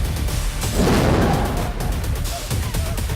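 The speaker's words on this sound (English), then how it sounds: "We got all sorts of air mortars going off." Sharp explosive booms and crackling bursts from fireworks-style air mortars, loud and repeated, with a swelling roar of blasts in the middle.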